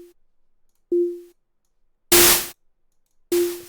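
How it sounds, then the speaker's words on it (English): A synthesized sine tone for drum sound design sounds in short, separate bursts, first clean and alone, then twice with loud white noise layered over it, each burst cut off abruptly. "So we have this little sign, and then so we add a little bit of white noise to that."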